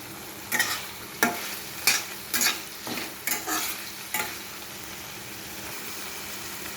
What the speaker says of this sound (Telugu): టమాటా కొంచెం మగ్గనివ్వాలి.